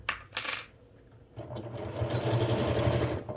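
A sewing machine runs steadily as it stitches the lining of a fabric bag, a close, even motor whir with rapid needle chatter that starts after a brief fabric rustle.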